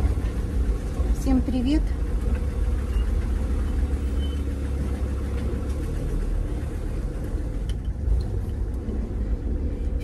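A car engine rumbles steadily as the vehicle pulls away, a low continuous drone heard up close with a woman's brief greeting over it.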